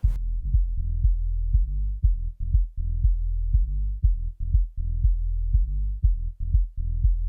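On a deep house track, the isolated first band of a multiband compressor carries a deep, steady low-end drone that is cut by a regular pulsing thump of kick hits at a moderate level.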